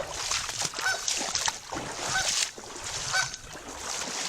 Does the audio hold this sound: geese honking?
yes